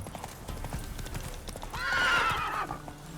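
Roach the horse trots with steady clip-clop hoofbeats in The Witcher 3, and a loud whinny rises over the hooves midway before fading.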